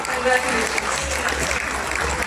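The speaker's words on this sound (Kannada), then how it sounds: "ದಯವಿಟ್ಟು ಜೋರಾದ ಚಪ್ಪಾಳೆ" Audience applause at a film critics awards ceremony, a steady dense wash of clapping throughout with a faint voice underneath.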